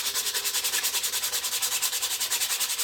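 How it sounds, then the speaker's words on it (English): Rhythmic back-and-forth scratching of sandpaper rubbed by hand over a wooden band-saw scoop, quick even strokes repeating close up. "you can just give it a good hand sanding all over"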